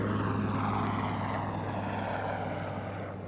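A helicopter does a pedal turn at the RAF Waddington airshow in 2006, giving a continuous throbbing rotor drone with a low steady hum that fades slightly as it turns away, no talk.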